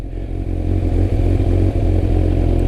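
A motorcycle engine runs close and loud as the rider shifts down into first gear, a low, steady chugging rumble that holds for the whole stretch with a few brief dips in level.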